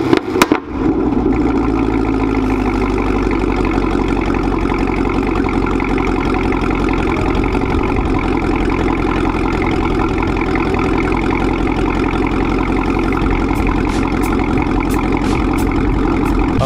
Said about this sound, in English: let's go ahead and do a quick startup so y'all can really hear how good this exhaust system sounds